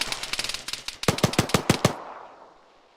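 Gunfire in the video game Arma 3: a rapid burst of automatic shots, then a slower run of heavier, louder rounds, ending in a fading echoing tail.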